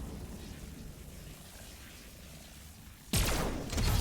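Weapon fire in a Fortnite Zero Build match breaks a calm, low ambient hum with a sudden loud, close volley of shots near the end, aimed at distant enemies.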